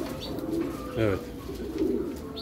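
A soft coo from homing pigeons drinking at a raised waterer on a perch rises briefly over a murmuring background, with a short spoken word in between.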